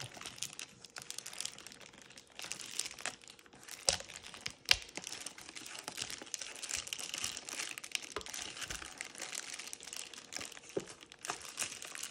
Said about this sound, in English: let's get this weird plastic that Amazon devices have off